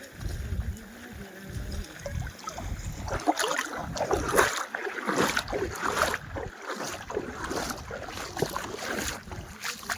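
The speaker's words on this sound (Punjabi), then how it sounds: "ਅਜੇ ਪਾਣੀ ਇਧਰ ਆਉਂਦਾ ਪਿਆ ਬੜੀ ਆਵਾਜ਼ ਆਉਂਦੀ ਇਧਰੋਂ" Floodwater rushing through farm fields in Thetharke village, with gusty, roaring surges and strong wind buffeting the microphone, loud and continuous outdoors.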